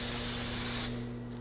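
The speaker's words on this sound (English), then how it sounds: "This product you simply spray it onto the rails and then let it dry" Dynaglide dry lubricant hisses from a spray can onto the rails of an ornamental mill in one steady burst of under a second, then cuts off, leaving a quiet background hum.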